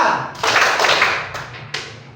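Classmates in a rhythm drill clap in a few loud group bursts, the first ragged, then a couple of sharp unison claps with brief gaps between them.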